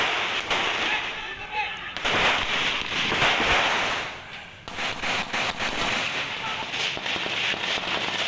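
Gunfire cracks out in sharp bursts during a clash with an armed group attacking a market area in Paniai, Papua Tengah, the shots snapping and echoing over a constant rumble of noise, with speech present.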